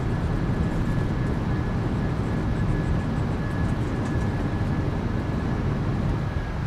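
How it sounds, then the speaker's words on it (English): A PMDG 737-800 airliner in Microsoft Flight Simulator 2024 roars with deployed thrust reversers during landing rollout, a steady loud broadband engine rush with a faint whine, continuous and without talk. "Nose down gently. Reversers are out. Decelerating."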